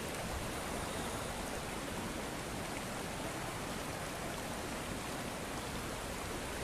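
Floodwater in Himachal Pradesh rushing like a river down a road, a dense, continuous roar of flowing water that stays loud and unbroken throughout.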